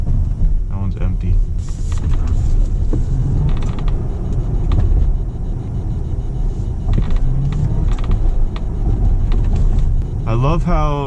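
Tesla Model X accelerating hard from a rolling start, heard from inside the cabin as a constant low road and tyre rumble with faint creaks, while people talk over it.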